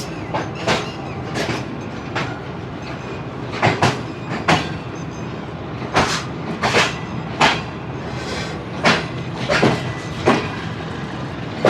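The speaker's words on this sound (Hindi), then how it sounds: "या तो फिर गुड्स ट्रेन भी हो सकती है।" Train running on rails during a Shalimar Express AC Standard journey in Pakistan, heard from inside: steady rolling rumble with repeated clickety-clack wheel beats over rail joints, moderately loud and continuous.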